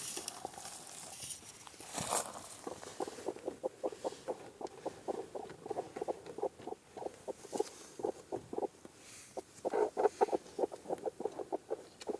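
Hens in a coop at night, soft repeated clucks and murmurs coming in quick uneven bursts, faint and close, with light scratching between.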